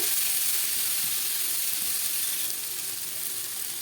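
Ginger and garlic frying in hot oil for a brinjal curry, a steady close hissing sizzle that eases slightly toward the end, with no talk.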